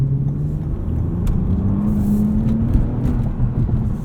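A 2020 Toyota Camry TRD V6 pulls hard from inside the cabin, its engine note rising steadily over constant road rumble for a few seconds, with no one speaking.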